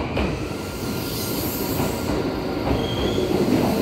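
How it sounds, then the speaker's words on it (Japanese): A chartered train pulls out of a platform at Yamato-Saidaiji station, a steady broadband rumble with wheel squeal and faint rhythmic clatter, loud and close throughout with no voices. "2番乗り場から新大宮奈良行きが発車します"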